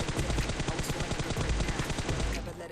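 Continuous rapid gunfire in a battle royale shooter video game during the final circle, a dense run of close shots at steady volume that fades slightly at the end.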